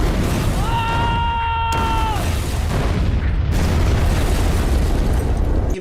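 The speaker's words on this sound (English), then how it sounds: "we get some obvious stock explosion effects that, well, I typically expect from Asylum movies anyway." A stock explosion effect from a low-budget zombie movie booms with a heavy, sustained rumble, a brief tonal whine and sharp bursts layered over continuous roaring blasts.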